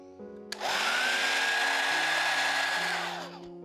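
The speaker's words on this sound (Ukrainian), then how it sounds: "Я феном майже не користуюсь, тому в мене такий супер старий фен" An old hair dryer switches on with a click and blows steadily at a loud whine for about three seconds, then winds down.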